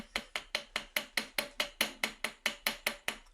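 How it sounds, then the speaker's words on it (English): A ball peen hammer strikes a wire bracelet about fifteen times in a steady, even rhythm, each blow a sharp metallic tap with a brief ring. The taps sound close and clear, with no voices. "some texture using the ball peen side. So let's do that real quick."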